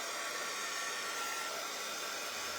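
A hair dryer blowing on a freshly painted resin suncatcher piece, a loud, steady whoosh running unbroken from start to finish with no talking.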